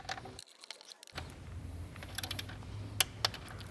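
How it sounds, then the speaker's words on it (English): A torque wrench tightens T30 intake manifold bolts on a MK7 Volkswagen GTI engine, with faint metallic ratcheting, small clicks and tool clatter close by, ending in a few sharp clicks. "Now the last T30 I have to torque is over here"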